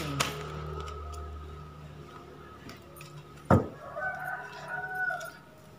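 A rooster crows at a moderate distance outdoors, one drawn-out call with a sharp start and a falling tail, heard against faint background noise with no one talking.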